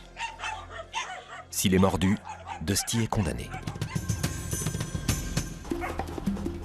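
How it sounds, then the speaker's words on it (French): Stray neighbourhood dogs bark in a noisy burst amid a busy street scene with music, the barking loud and close for a few seconds while a voice speaks over it. "vient de déclarer la guerre aux chiens enragés du quartier en urinant sur leur territoire"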